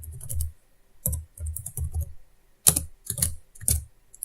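Short bursts of keystrokes on a computer keyboard entering a PowerShell command, close and crisp clicking in quick clusters separated by brief pauses.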